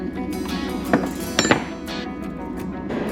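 A nut and a cover plate come off a Husqvarna chainsaw during a clutch drum job: a few light metallic clinks and taps, with two sharper knocks close together in the middle, over a low background hum.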